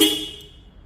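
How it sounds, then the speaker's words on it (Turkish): A single short Ford Ranger horn beep sounding on double locking, sharp and loud, fading quickly into silence. "Çift kitlemede korna."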